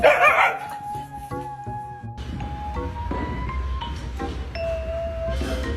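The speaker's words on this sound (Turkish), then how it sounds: "Köpeğin orada ne işi var?" A dog howls in long, wavering tones, rising and falling several times, fairly close, with some background rumble and no talking.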